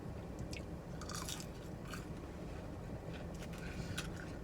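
Crisp crunching bites on salty fried onion chips, several sharp crackles in quick succession over a steady hiss of background noise, close to the microphone with no talking.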